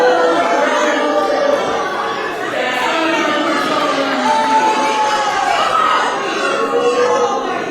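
Crowd at a wrestling event in Massachusetts reacting to tag team champions, a loud mix of chatter, shouts and jeers from many people in an indoor venue, continuous throughout.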